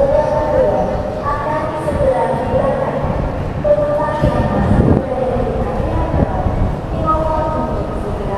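Steady rumble and rolling noise inside a Whoosh high-speed train running from Halim toward Bandung, continuous for the whole stretch, with a voice announcing faintly over it.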